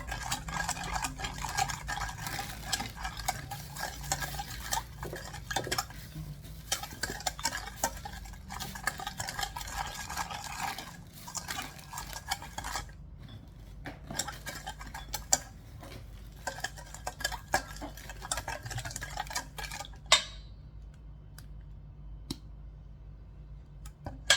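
A spoon stirs chilli powder into a fried pork belly salad in a bowl, with soft continuous scraping and scattered light clicks of utensil on dish, close and moderately quiet, no voices.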